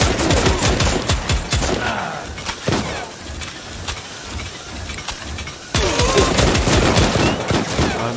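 Rapid automatic gunfire from a first-person shooter PC game set in snow, dense loud bursts of rattling shots with brief lulls, resuming at full intensity near the end.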